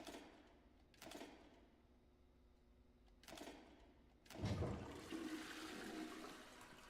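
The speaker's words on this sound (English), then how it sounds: "Maybe if I flush the toilet, it'll make the cello appear." A toilet flushes in the survival horror game Boris and the Dark Survival. A few soft clicks of the handle come first, then a quiet rushing swell of water that carries on to the end, with no talking.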